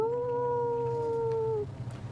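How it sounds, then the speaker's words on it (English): A single sustained wolf howl as a sound effect, a clear tonal wail with harmonics holding steady for about a second and a half before cutting off into low background rumble. "You shout out for about 10, 15 minutes or so before you hear a distant howl."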